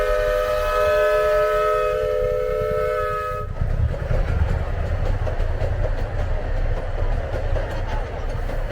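A farm tourist train's horn sounds a long steady chord, then the rumbling clatter of rolling rail cars takes over, loud and close, at Hillcrest Farms in Reedley.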